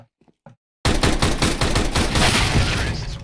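Tec-9 pistol gunfire in the video game CS:GO bursts in after a brief near-silent moment, a loud rapid string of sharp shots that keeps firing until the end.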